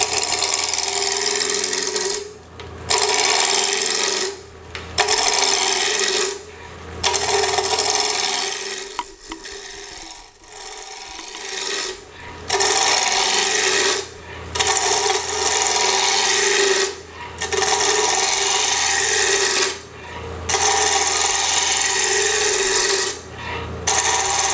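A turning tool rounds a wooden lidded box blank spinning on a wood lathe, a loud continuous raspy scraping broken by short regular pauses and a brief quieter dip midway, no voices.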